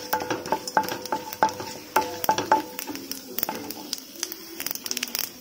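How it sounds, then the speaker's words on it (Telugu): Cumin and chana dal fry in hot oil with mustard seeds, throwing out a scatter of sharp pops and crackles over a soft sizzle that gradually thins out, with a voice talking over it. "ఇప్పుడు మనము కొద్దిగా జీలకర్ర ఒక 2 స్పూన్స్ ఆఫ్ శనగపప్పు వేసుకొని ఒకసారి అలా వేయించుకుందాం"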